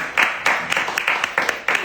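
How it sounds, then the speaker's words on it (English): Scattered, sparse handclaps from a small group at a barber fellowship mixer: a few uneven bursts of clapping, close and fairly loud, rather than full sustained applause. "give her a round of applause for that."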